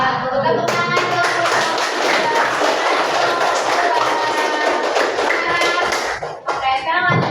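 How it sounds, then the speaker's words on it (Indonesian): A school class audience claps together for a group presentation, a loud dense burst of many hands sustained for several seconds, with children's voices mixed in before it thins out near the end. "Tepuk tangan dong."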